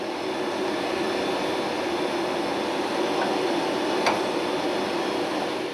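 A loud, steady engine drone fills the ramp at Roissy airport as a tractor pushes an aircraft back from its parking stand, with one brief sharp click partway through.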